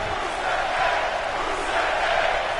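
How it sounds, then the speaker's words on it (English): Crowd noise from a wrestling arena in the video game WWE 2K20 swells steadily as fans cheer for Rusev, a dense roar with no clear breaks and speech faintly mixed in. "Crowd are all in favor of Rusev."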